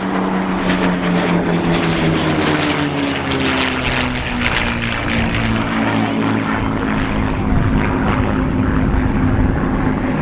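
P-51 Mustang and Spitfire warbirds roar past at the Dunsfold Wings & Wheels airshow, their piston aircraft engines producing a loud, continuous drone with shifting pitch as they fly by.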